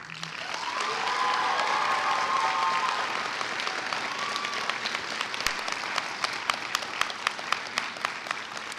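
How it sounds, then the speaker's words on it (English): New University of Minnesota Rochester graduates applaud their friends and family at a spring commencement, a large crowd's clapping that swells to a full roar, then thins into scattered, echoing claps in a big hall. "Friends and family, this is an applause of gratitude from new UMR alumni."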